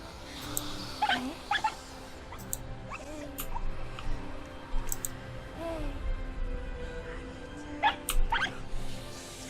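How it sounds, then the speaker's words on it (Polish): A fox in the video game Rime gives scattered faint yips and whimpering barks over a soft ambient game background, spaced irregularly through the stretch without speech. "Czemu na nich szczekasz? Są kumple."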